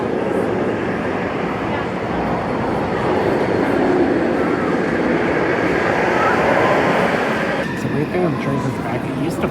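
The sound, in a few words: Fury 325 roller coaster train moving near the station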